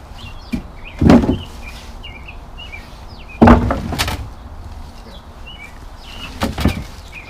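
A car door on a 1971 Saab 96 found in a yard is worked open and shut, with two heavy clunks and a rattling third, while birds chirp faintly outdoors.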